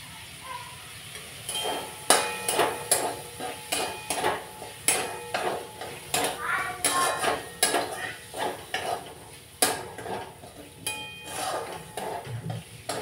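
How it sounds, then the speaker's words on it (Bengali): Metal utensil scraping and clanking in a pan as tomato is stirred into cooking pasta, a steady run of close, sharp clinks and scrapes with a faint sizzle beneath. "একটুখানি টমেটো দিয়ে দিলাম"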